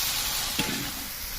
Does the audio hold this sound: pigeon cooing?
no